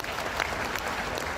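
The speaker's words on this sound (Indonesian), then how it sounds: "Tepuk tangan untuk kita semua." Audience applause fills a hall during a motivational talk for Indonesian civil servants, a dense, steady patter of many hands clapping close by for the whole moment, with no voices over it.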